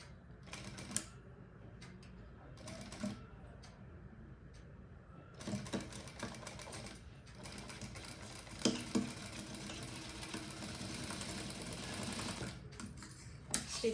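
A sewing machine stitches an Aari work blouse in a steady mechanical patter of short runs and pauses, moderately loud and close, with small clicks and handling noises between bursts.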